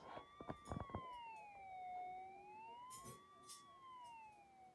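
A wailing siren rises and falls in slow, smooth sweeps, preceded by a few sharp clattering knocks, with faint background noise throughout.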